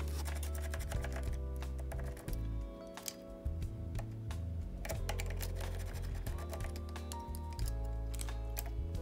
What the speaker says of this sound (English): We just remove these two screws.